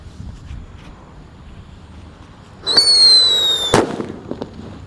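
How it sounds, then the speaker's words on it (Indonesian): A whistling thunder firework set off in the ground lets out a piercing, falling whistle for about a second, then ends in one sharp, loud bang, with faint popping and wind noise around it. "yang akan kita nyalakan di dalam tanah ada whistling thunder guys. Ini suaranya menggelegar sekali."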